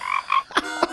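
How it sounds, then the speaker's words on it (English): A male frog croaks in a few close, distinct bursts, two tonal calls followed by two harsher rasping croaks, loud and clear with nothing else audible. "Croaking also tells other male frogs to stay away."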